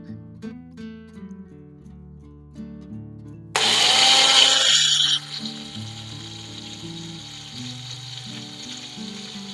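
A mixer grinder blending green paste with a little water, a short loud whirring burst of about two seconds over soft background music.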